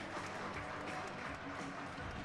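A large indoor crowd in a university fieldhouse at a college sports game claps in a steady, even wash of applause, with a murmur of voices underneath.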